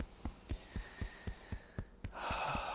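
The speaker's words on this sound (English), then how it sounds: "Breathy exhale." A regular series of soft, close percussive taps, likely chest tapping during a qigong exercise, runs under a drawn-out breathy exhale through the mouth that swells into a loud airy rush near the end.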